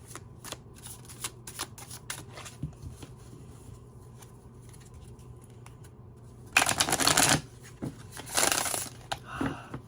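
Tarot cards shuffled by hand, a sparse run of soft riffles and taps, then two dense bursts of rapid flapping card noise close to the listener, with no talking.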